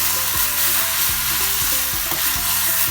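Minced chicken frying in a pan with cumin, salt, turmeric, red chillies and dried coriander, a steady close sizzle broken by a few scraping stirs of a spoon against the pan.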